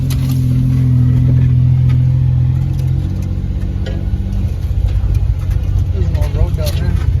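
A 1991 Ford Ranger engine works steadily in third gear on an off-road track, a loud continuous drone that drops slightly in pitch partway through and keeps rumbling underneath.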